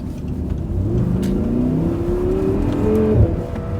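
A 2014 Audi R8 Spyder convertible engine revs loudly and close, rising in pitch as the throttle opens, with a steady deep drone throughout and a brief bark near the end.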